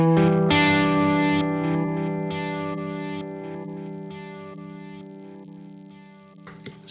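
Sustained guitar chord run through a Boss DD7 digital delay pedal in reverse delay mode, a loud wash of repeats with swelling reversed echoes that slowly fade before a faint click at the end.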